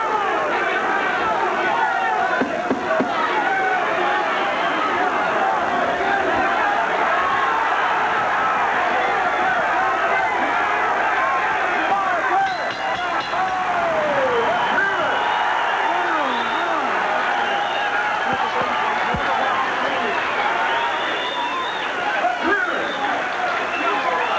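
A boxing arena crowd roars and cheers through the closing seconds of a fight, a dense, sustained wall of noise with a commentator talking over it.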